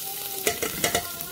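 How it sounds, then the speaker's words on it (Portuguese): Garlic frying in oil with beef ribs in a pan, a steady sizzle broken by several sharp scraping stirs in quick succession, close and fairly loud with no talking. "Agora vem o alho, ó."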